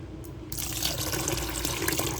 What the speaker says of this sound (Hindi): अब इसमें हम ठंडा पानी डालेंगे ताकि इसका जो कुकिंग प्रोसेस है वो ख़त्म हो।